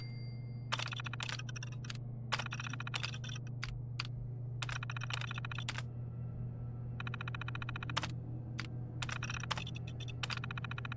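Bursts of keystrokes on a computer terminal keyboard in the video game Fallout 4, clustered into quick rhythmic runs with short pauses, over a steady low electronic hum, no talk.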